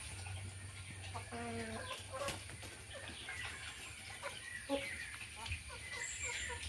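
Chickens being fed rice cluck in short, scattered calls close by, with a few clear clucks standing out over a steady low background hum and faint rustling.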